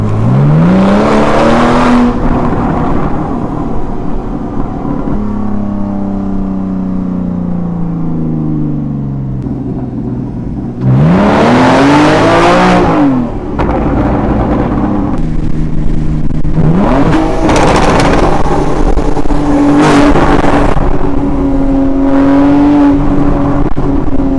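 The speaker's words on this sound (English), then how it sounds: "The way this thing sounds, just absolutely amazing. There's a lot of pops and crackles." A Porsche 981 S with a modified exhaust revs repeatedly, each sharp rise in engine pitch falling back into burbling idle with pops and crackles, loud and close with no talking.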